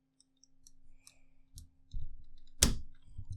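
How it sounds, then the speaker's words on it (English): Several sharp cutting snips and clicks sound up close while a protruding part is trimmed during an FPV racing quadcopter build, scattered irregularly with one louder crunch near the end. "Just go ahead and cut some off."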